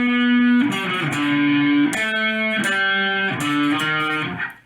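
A distorted electric guitar plays a metal riff in a minor key, heavy sustained notes broken by quick repeated picked chugs, loud and close for several seconds before ringing off.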